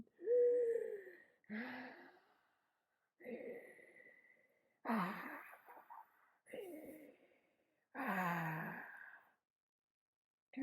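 A voice imitates a monster panting, producing six breathy, wheezing gasps and sighs with raspy, ragged tones, each separated by short silences, close and fairly quiet.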